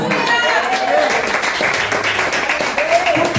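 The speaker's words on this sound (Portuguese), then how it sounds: "Quem crê nisso, aplauda o Senhor." Church congregation applauds during a sermon, a broad wash of clapping that carries on steadily, with voices audible among the crowd.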